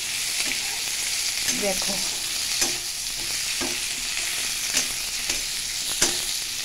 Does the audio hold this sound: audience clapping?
no